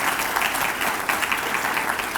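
Steady audience applause fills a hall at a 2020 inaugural address, dense clapping holding at an even, loud level throughout with no break.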